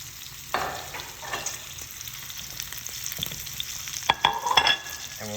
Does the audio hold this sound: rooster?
no